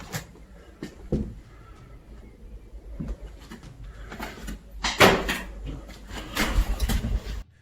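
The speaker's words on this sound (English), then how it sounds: "Somewhere nearby a door closes all by itself" A door in an abandoned house knocks and bangs shut on its own, several sharp wooden thuds and clatters scattered over a quiet, hollow room background, with the loudest impacts near the end.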